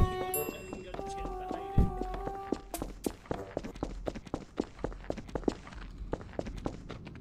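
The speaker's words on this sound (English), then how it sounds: "I thought I heard a footstep." Footsteps in the game Garry's Mod: a steady series of sharp, evenly paced thuds, fairly close, continuing for several seconds after some brief tonal game sounds and a single loud knock.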